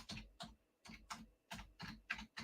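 Typing on a computer keyboard, heard as quick clustered bursts of key clicks in an uneven rhythm, close and fairly quiet with short pauses between runs.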